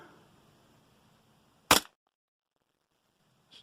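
A Tokyo Marui M9A1 gas blowback airsoft pistol fires one sharp, loud crack into a backstop, the single snap standing alone in near silence, with a faint click a couple of seconds later.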